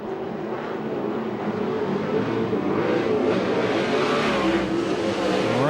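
USAC/CRA sprint cars roar off the green flag at a Bakersfield, California race start, a dense, loud, continuous engine howl from the pack with rising revs and no pause.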